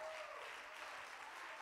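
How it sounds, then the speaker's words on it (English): Church congregation applauding during an Apostolic sermon, a sustained fairly soft wash of clapping that stays steady throughout, with a faint tone briefly underneath. "Somebody ought to give him a hand of applause here today."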